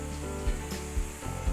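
Butter with milk or cream sizzles and bubbles steadily in a stainless steel frying pan, close up, with a few soft scraping knocks at regular intervals under the continuous hiss.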